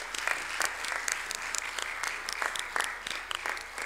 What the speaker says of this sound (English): So please keep the applause going, ladies and gentlemen.